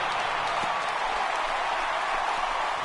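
A home crowd roars and applauds in the MLB 18 baseball video game, a dense, steady wash of cheering that stays loud and unbroken throughout.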